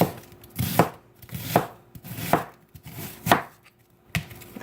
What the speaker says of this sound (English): And just dice it up.